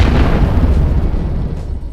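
A cartoon explosion sound effect opens with a loud, broad burst that rolls into a rumbling decay, slowly fading over about two seconds.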